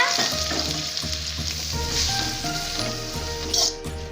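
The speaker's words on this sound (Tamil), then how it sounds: "கடலெண்ணெய் ஊற்றிக்கலாங்க அரிசி வைத்த பிரண்டையை போட்டுக்கலாங்க நல்லா வதக்கிக்கலாங்க" Pirandai (adamant creeper) fries in groundnut oil in a pan, giving a continuous crackling sizzle with scraping stirs and a brief brighter hiss near the end.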